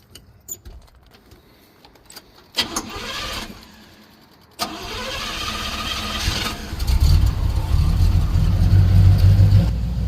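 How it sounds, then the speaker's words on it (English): A Chevrolet box-body truck engine cranks with scattered clicks and rattles after a starter swap, then catches around the midpoint and settles into a loud, steady low rumble that builds toward the end. "See how the Chevy turns over, man."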